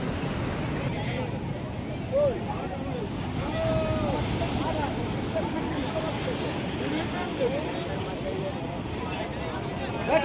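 Sea waves washing onto the beach at Digha in the morning, a continuous rushing surf wash with wind buffeting the microphone, steady and fairly close.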